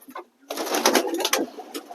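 Close-up rustling and fluttering with a brief soft bird sound, as if a pigeon is being handled nearby.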